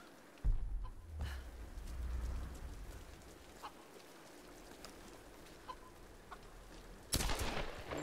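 Chicken clucking in the video game Tomb Raider (2013), a few soft, brief clucks scattered over low ambient game background, with a louder burst near the end.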